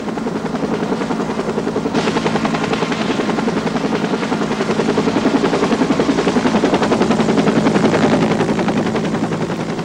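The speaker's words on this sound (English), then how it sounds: "The Life Flight helicopter arrived from Portland in less than 15 minutes." A Life Flight medical helicopter, called in from Portland to a rescue scene, arrives with loud, steady rotor chop and engine whine that continue throughout without pause.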